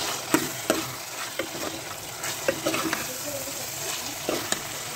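Chicken with yogurt and kadai masala fries in a pan with a constant sizzle, broken by repeated sharp scrapes and knocks of a spoon stirring against the metal.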